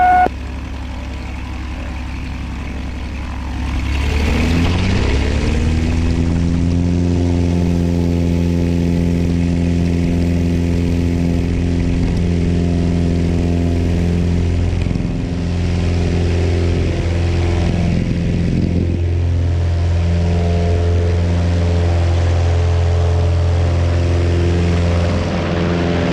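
A light propeller aircraft takes off from runway 25. The engine starts low, then surges to a loud, steady drone with a rising propeller hum, and holds at full power close by.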